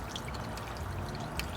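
Jets of a water feature spray and splash in a steady, continuous wash of falling water with faint brighter splashes on top.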